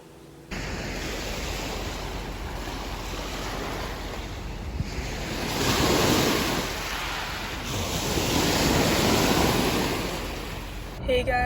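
Ocean waves wash onto a beach in a steady broadband roar that swells twice into louder surges, with some wind buffeting the microphone and no talking.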